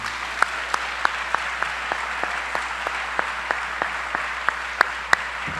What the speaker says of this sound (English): you join me in giving a big round of applause to all these deans and professors